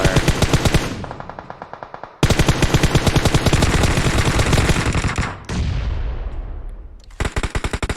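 Automatic M4 rifle fire with a 4x scope in a competitive shooter scrim, loud rapid bursts of sustained shots with brief pauses between them, no talk over the firing.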